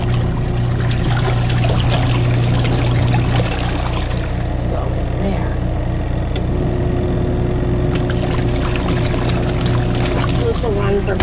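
A portable washing machine for a camper RV churns through a wash cycle, with a continuous loud motor drone and sloshing, gurgling water that keeps going without a break.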